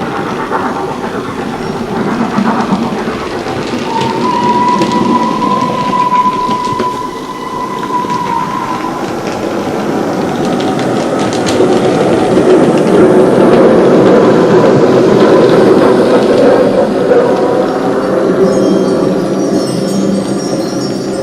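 A railway engine on the line to Bridport approaches from a distance, a steady low rumble and rolling noise that slowly builds and swells, with a faint whistle-like tone early on.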